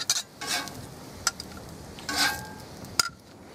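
Food cooking fast on a cast iron griddle set on a Weber grill, a soft frying sizzle punctuated by a few sharp metallic scrapes and clicks of a utensil, close by.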